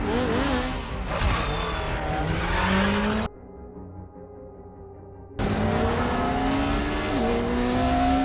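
Film car chase from Black Widow: cars roar and rev with tire squeal, loud and continuous, cutting to near silence for about two seconds before the engines return at full volume.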